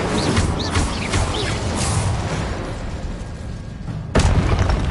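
Confringo and Incendio spells cast in Hogwarts Legacy during combat: loud bursts and booming blasts over a constant rumbling din, ending in a sharp, heavy explosion near the end.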